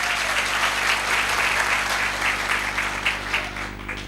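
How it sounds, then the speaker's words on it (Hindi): A seminar audience claps in a steady burst of applause, moderately loud and continuous, slowly thinning toward the end. "मैं चाहता हूं इनके लिए दमदार जोरदार तालियां"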